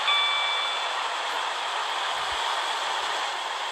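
Train pulling into a station platform in the Roblox game Whitecoast City Railway: a steady, loud broadband rumble and hiss of the train with a few high tonal squeals at the start, no voices.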